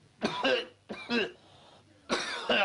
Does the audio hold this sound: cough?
yes